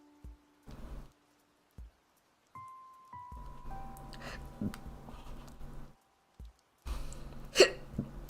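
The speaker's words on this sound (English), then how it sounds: "I have the hiccups." Several short, sharp hiccups come at irregular intervals in a quiet room, each one near and abrupt, with long silences and faint background noise between them.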